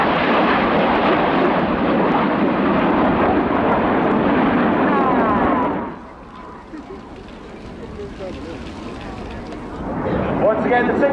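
Red Arrows jets performing the rollback display manoeuvre at an air show, a loud sustained jet roar that drops sharply after about six seconds and swells back near the end, with a brief voice in the middle.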